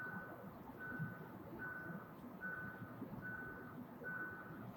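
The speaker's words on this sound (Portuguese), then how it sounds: "Já está dando alerta sonoro." A Hyundai HB20 Platinum Plus sounds its driver-assistance alert, a steady series of evenly spaced electronic beeps, about one every second, heard inside the moving car over low road noise.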